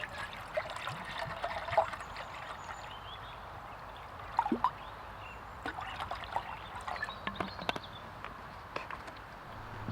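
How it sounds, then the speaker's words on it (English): At a solo wild camp, water trickles and splashes into a container in a soft continuous flow, broken by a few light clinks and knocks. "Let's fill some water in there."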